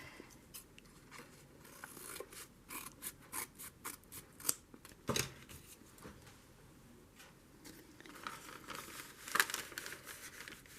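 Scissors trimming a junk journal spine, a run of quiet, close, crisp snips in an irregular rhythm with faint paper rustling between cuts, with no talk.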